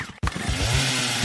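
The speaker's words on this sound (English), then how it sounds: "is that a chainsaw?" A chainsaw starts abruptly after a brief silence and then runs steadily, loud and close, with a constant buzzing engine drone.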